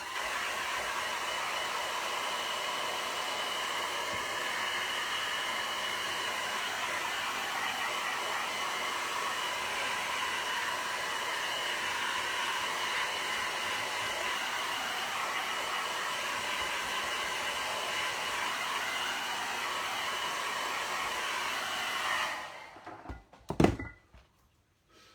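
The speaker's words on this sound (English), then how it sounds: "I'm going to put the hairdryer on because it dries quicker." A hair dryer blows with a steady, loud whirring hiss, then shuts off near the end, followed by a couple of soft knocks.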